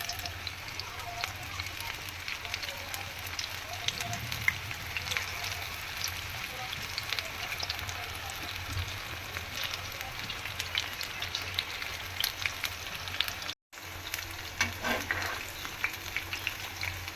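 Onion pakoras sizzle steadily as they fry in hot oil, a continuous crackling hiss close by with faint background stirring and no talk.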